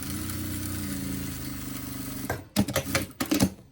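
A sewing machine stitches fabric in a steady whirring run that cuts off, followed by a few short bursts of stitching close by.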